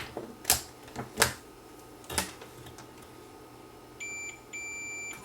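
A multimeter gives a short continuity beep, two brief high tones, while testing across soldered pins on a Panasonic PVD4744 DVD VCR combo board, after several sharp clicks of probes and tools nearby.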